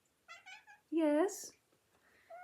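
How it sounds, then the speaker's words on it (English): A house cat meows up close, with a few short chirpy calls followed by one long, loud drawn-out meow, then a faint trailing mew. "Sorry, one of my cats has got something to tell me."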